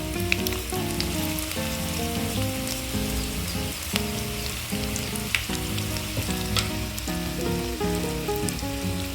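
Onions sauté in hot oil for sambar, a steady dense sizzle and crackle close by, under continuous background music.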